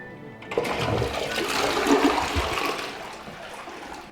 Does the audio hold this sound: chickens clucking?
no